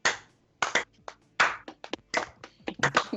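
Scattered claps from a few tabletop role-playing players around a table, a handful of separate bursts and single hand taps spread unevenly, close and fairly quiet with no talk.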